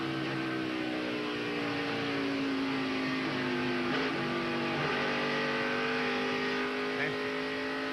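On-board NASCAR stock car engine during the 2002 Pennsylvania 500, a steady loud high-revving drone that dips and recovers as the car goes down into the corner, continuous throughout.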